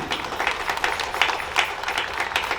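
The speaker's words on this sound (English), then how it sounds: "give them a round of applause very strongly" Crowd applause for the mayor and city council at an outdoor flag-raising ceremony in Paterson, steady diffuse clapping from many people at a moderate distance, without speech.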